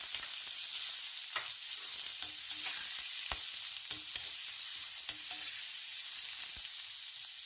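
Onion and green chillies fry in a little oil in a pan on the stove, giving a steady bright sizzle with occasional stirring clicks and scrapes, close by and with no talk.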